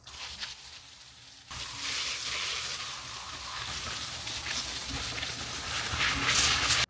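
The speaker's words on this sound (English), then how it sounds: "I'm still going to spray it with neem oil just in case" A pressurized neem oil sprayer hisses steadily in a broad, loud spray over vegetable garden plants, starting abruptly and carrying on without a break, close by.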